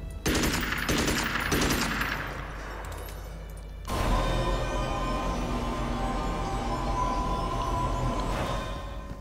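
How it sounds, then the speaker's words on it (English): Rapid automatic gunfire from a bolt pistol in the video game Magicka, a loud sustained burst of shots with a few quick volleys first, then a dense continuous rattle, with no talk over it. "Use your bolt pistol."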